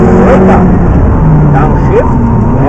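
McLaren 650S supercar on a racing track, its engine roaring loud and close under steady acceleration with rising pitch sweeps, while a voice coaches over it.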